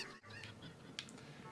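Chickens cluck in The Legend of Zelda: Ocarina of Time, a few faint, soft clucks and honk-like calls over quiet game background.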